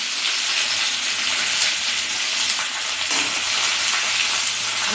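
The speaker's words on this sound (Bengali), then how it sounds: "তো বন্ধুরা এই বেগুনগুলো দেখো আস্তে করে দিয়ে দিলাম।" Eggplant pieces fry in a pan for a spicy begun jhal, giving a loud, steady sizzle and hiss of hot oil close by.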